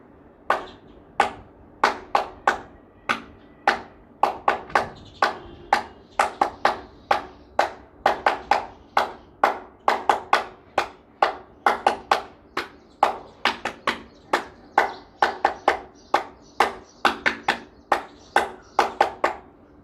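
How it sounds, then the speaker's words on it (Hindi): Rhythmic yogic hand clapping keeps a steady, sharp pattern of claps in grouped beats, close and crisp, repeating without pause in a quiet room. "इसको हम यौगिक ताली के रूप में भी बजा सकते हैं।"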